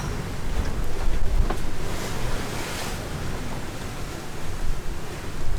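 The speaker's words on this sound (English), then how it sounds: "the camera will never be able to show what the waves really look like" Ocean waves and strong wind around a sailboat heading upwind on an open-sea passage, a loud continuous roar of surf and wind buffeting the microphone, with swells of louder rushing water.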